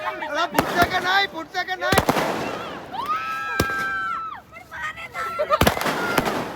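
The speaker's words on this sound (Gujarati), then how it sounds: "ફટાકડા ફૂટે છે ભાઈ" Firecrackers burst at a birthday celebration, several sharp, loud bangs going off at irregular moments amid excited shouting and chatter from a nearby group.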